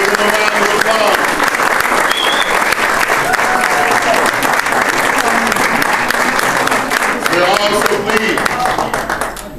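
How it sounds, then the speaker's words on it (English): Loud, close applause from an audience at a Boston State College portrait unveiling, many hands clapping continuously with a few voices in the crowd, tapering slightly at the end. "Give them a round of applause."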